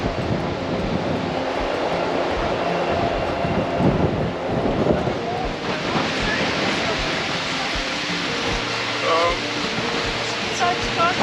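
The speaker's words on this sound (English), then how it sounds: "The wind is strong." Strong winter wind buffeting the microphone on the Tenerife seafront between Puerto Colon and Playa de Troya, a loud constant rumbling roar with surf-like wash, voices talking over it.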